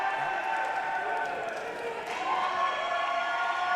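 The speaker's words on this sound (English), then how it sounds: "Listening to the roar of the crowd." Wrestling arena crowd roaring at a live show, a dense, sustained wash of cheering at high level, with an announcer's voice talking over it.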